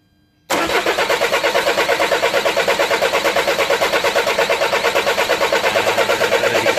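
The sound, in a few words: Citroen C4 Picasso 2.0 HDi diesel engine cranking over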